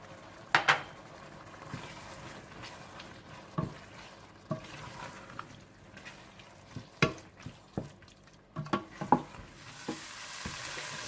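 Minced keema masala with turmeric, cumin, red chilli and coriander powders and salt frying in a pan, with scattered spoon scrapes and clinks over a low, steady sizzle, close and moderately loud, with no talking.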